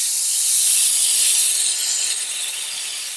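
Iwata HP-CS Eclipse airbrush spraying paint at 23-24 psi onto cardboard, held further back for broad coverage: a steady, close airy hiss that stays continuous and gently fades slightly toward the end, no talking.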